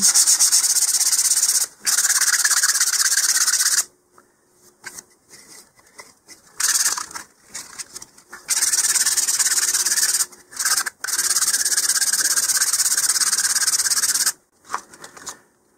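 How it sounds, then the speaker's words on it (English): Sandpaper of 150 grit is rubbed lightly along the edges of a LOC Precision Iris 2-inch model rocket, giving close, steady scratchy strokes in several bursts separated by short pauses. "now, once we get to this point, I'm going to change to 150 grit sandpaper"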